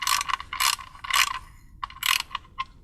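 Ratchet clicking in quick bursts while tightening the oil drain plug on the oil pan of a MK4 Jetta with the 1.8T 20-valve engine; short rapid pawl chatter close by, pausing between strokes, with no talking.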